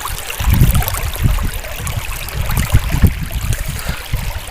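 The Madhura River in Thaligram, Cachar, Assam, flows steadily nearby at a river crossing, a continuous loud rush and gurgle of water with low splashy surges and no talk.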